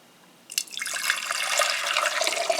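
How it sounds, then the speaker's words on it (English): After a brief quiet start, water tinted with food coloring splashes and trickles steadily as it is poured back into a lab beaker, close and fairly loud. "I'll pour this back into the beaker"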